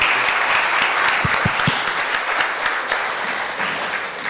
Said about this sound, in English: Let's give Sonia a round of applause.